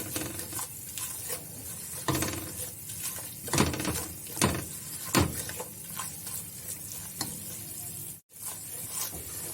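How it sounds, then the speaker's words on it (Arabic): Flour is toasted in ghee while being stirred, with a soft continuous sizzle and irregular scraping strokes of the spoon against the pot, briefly cutting out near the end. "ننزل هنا ب3 معالق دقيق، نحمصهم بقى كده بس طعم الدقيق الني بس كده يروح في السمنه."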